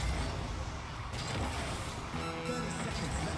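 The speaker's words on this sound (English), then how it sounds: "I hate the sound effects on this battle bus." A steady, loud engine and car rumble from the battle bus car in the video game Rocket League runs throughout, dense and continuous with no pauses.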